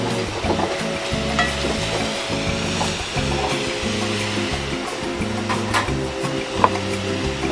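Cube steak browns in a pan with a steady sizzle and light frying crackle, partly masked by a loud tonal background music bed throughout.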